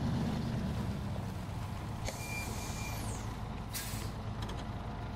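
A truck in the SnowRunner video game idles with a low, steady engine rumble, then lets out a sharp air brake hiss midway and another brief burst of air near the end, with no talking.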